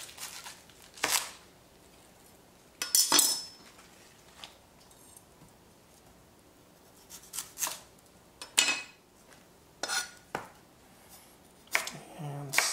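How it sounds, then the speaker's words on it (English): A knife slicing shallots thinly on a cutting board for a vegetable tian, with scattered crisp cuts in separate bursts against a quiet kitchen background. "And slice the shallots the same way we did the onions."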